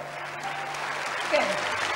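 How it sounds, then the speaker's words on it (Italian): Italian TV studio audience applauding on a variety show, a soft continuous wash of clapping heard at a distance, with a faint voice and a low tone briefly underneath. "vedi applaudono, applaudono sulla fiducia"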